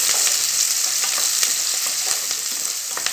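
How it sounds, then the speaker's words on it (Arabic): Onion frying in a pan, a steady close sizzle with brief crackles and pops running the whole time, no voices. "طبعا كده الأول هندبل كده البصلة"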